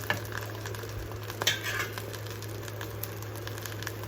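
Mustard seeds, cumin and dried red chilies frying in a pan for a Telugu chutney, a steady low sizzle with a few faint stirring taps, continuous and fairly quiet throughout.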